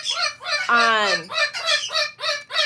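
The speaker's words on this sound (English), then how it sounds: "And there goes the wild parrots." Wild parrots give harsh, squawking calls overhead in a quick series of bursts, loud and fairly close, one longer rising screech in the middle.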